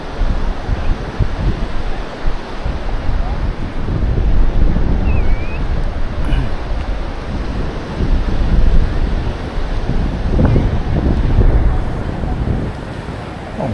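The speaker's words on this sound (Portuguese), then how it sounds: "Um vento agradável." Wind and surf at Praia Brava beach in Florianópolis, a steady broadband roar of waves and gusts buffeting the microphone, swelling and easing throughout with no clear voices.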